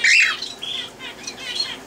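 A cockatiel lets out a loud, harsh squawk at the start, followed by softer chirps and calls over the rest of the brief clip, close by and with no talking.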